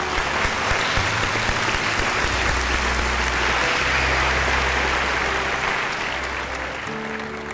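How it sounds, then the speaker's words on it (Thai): Studio audience applause on a children's singing talent show, a loud, sustained sheet of clapping with a low hum and background music tones beneath it, fading slightly toward the end. "อันนี้พี่ขอปรบมือให้เลยครับ"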